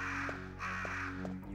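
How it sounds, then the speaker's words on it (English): Crows caw repeatedly in Resident Evil 1: several harsh, rasping calls come in a steady rhythm, loud and close, with no talk. "those crows are going to come and peck your fucking face apart"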